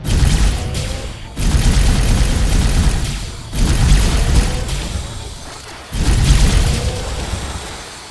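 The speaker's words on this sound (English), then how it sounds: "I love the sound of these guns, man. The sound of these when they're cycling." Ship guns firing in X4: Foundations: four heavy booming volleys, each a loud burst that rumbles and slowly fades before the next, spaced a couple of seconds apart with no talk.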